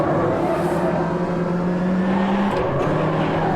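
A Ginetta G40 race car engine in the Automobilista 2 racing game holds a steady high drone, then drops sharply in pitch as it downshifts, with tire and wind noise underneath.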